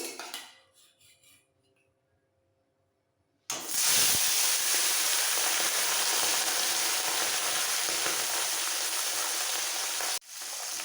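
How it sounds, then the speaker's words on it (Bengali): Bata fish marinated in salt and turmeric drops into hot mustard oil, bursting into a loud, close, steady sizzle after a quiet start. The frying hiss holds until it cuts off abruptly near the end. "সবার প্রথমে মাছগুলো একটু ভেজে নিতে হবে"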